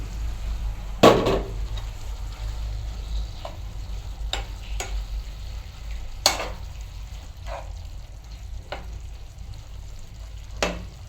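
Washed pigeon meat dropped into a hot pan, a continuous low sizzle of frying with scattered sharp clacks and scrapes of stirring, no voices.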